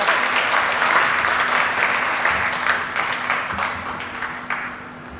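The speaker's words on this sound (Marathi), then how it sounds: "पण सगळ्यांनी एकदा जोरदार टाळ्या" An audience at a stage performance honouring a Bharatanatyam dancer breaks into sustained applause, a thick, even wash of many hands that slowly tapers, with a faint steady hum underneath.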